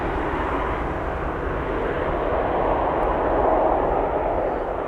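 Airliner taking off at Amsterdam Schiphol Airport, a loud, steady jet engine roar that swells slightly as the aircraft passes, heard from a distance with no voices.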